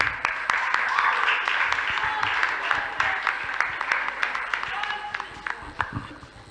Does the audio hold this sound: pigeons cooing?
no